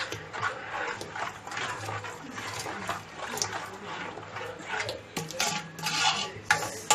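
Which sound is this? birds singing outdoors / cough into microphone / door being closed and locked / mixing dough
mixing dough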